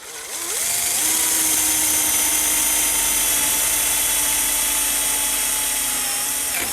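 A power drill bores holes for barrel nuts through a workpiece held in an ELEVATE variable mortise-and-tenon jig, running loud and steady at a constant whine for several seconds before slowing at the end.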